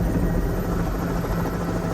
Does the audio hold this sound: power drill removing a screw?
no